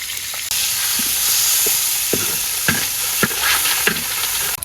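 Shrimp frying in a hot pan with sizzling oil, loud continuous sizzle punctuated by regular scraping strokes of a spatula stirring, close up with no talk.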